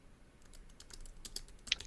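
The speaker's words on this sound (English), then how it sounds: "I'm just typing something real quick." Quick keystrokes rattle on a computer keyboard, a short run of uneven clicks ending in a louder tap, close by and with no voices.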